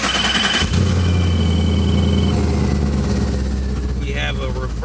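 A 1971 Chevelle convertible engine fires up with a push-button start and settles into a loud, steady rumbling idle heard close up, with a brief voice near the end.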